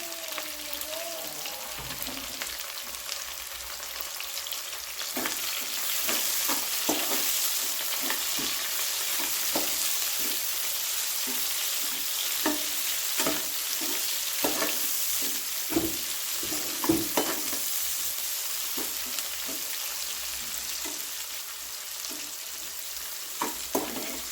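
Onion and curry leaves fry in a pan for tomato rice, giving a steady, close sizzle with soft scraping and tapping from stirring scattered across it.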